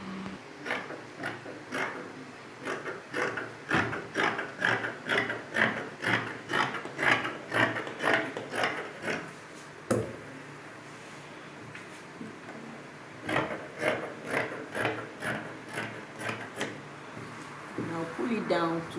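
Scissors cut through dress fabric in a regular series of crisp snips, close and clear, pausing midway before another run of cuts, with a voice speaking occasionally.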